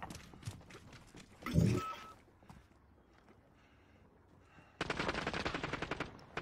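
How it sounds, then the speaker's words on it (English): Gunfire from a gun in the Call of Duty Modern Warfare video game: a short burst of shots early on, a quiet stretch, then a sustained rapid automatic volley toward the end, fairly loud against low background. "This gun sucks at firing."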